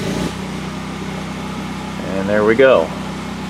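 A DuroMax XP10000E standby generator fitted with an electric choke runs with a steady, close engine hum, and someone speaks briefly near the end.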